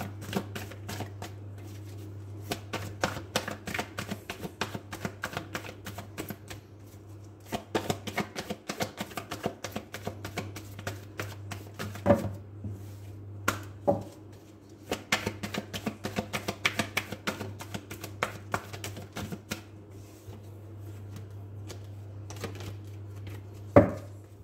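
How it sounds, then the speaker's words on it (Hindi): A deck of tarot cards is shuffled by hand in repeated bursts of rapid crisp riffling clicks separated by short pauses, fairly close, over a low steady hum. "कार्ड्स को शफल करना शुरू करते हैं पहले गाइस"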